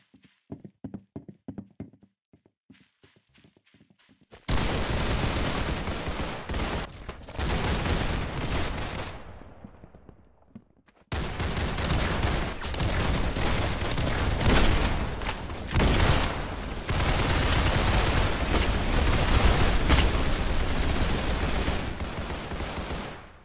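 Roblox Arsenal gunfire starts as sparse, separated shots, then breaks into long dense bursts of rapid automatic fire with a brief lull midway, loud and close.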